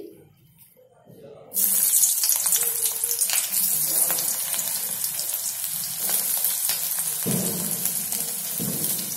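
Chopped onion, capsicum and green chili hit hot oil in a kadai with a sudden loud sizzle that keeps frying steadily, with faint clinks of utensils in a home kitchen.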